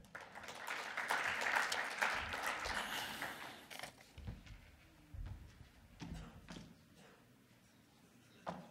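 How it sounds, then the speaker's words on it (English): Applause from an audience at an economics association event in Namibia, greeting a ministry permanent secretary. The clapping is loud and dense for the first few seconds, then thins into scattered claps and fades over roughly nine seconds. "please let's give a round of applause to the the Permanent Secretary of the Ministry of Poverty Eradication and Social Welfare"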